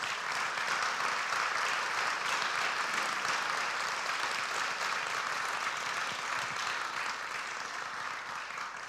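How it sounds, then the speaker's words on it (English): Church audience applauding colleagues, steady sustained clapping from many hands throughout, fairly even and moderately distant, slowly tapering near the end. "I'd like you to give the round of applause to my colleagues as well"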